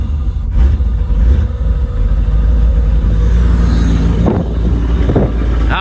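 A Tuneport injected 5.7 liter engine fitted with Holley and MSD parts runs with a loud, steady low rumble, with a couple of brief surges near the end.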